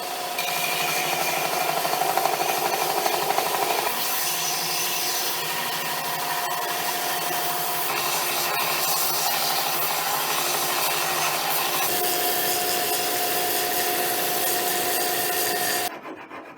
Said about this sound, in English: Once you're done using the belt sander, take a hand file and just hand file the rest by hand.